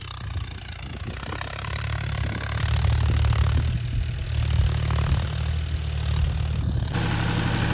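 A John Deere 5050D tractor engine labours steadily while pulling a 13-tine cultivator through firm field soil. It gives a loud, continuous low drone that builds in strength partway through, with no one talking over it.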